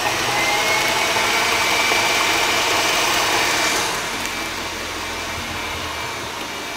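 An electric mixer whips egg whites and sugar toward stiff, glossy peaks for a gluten-free, dairy-free lavender London fog cake, giving a steady loud motor whine that drops slightly in level partway through.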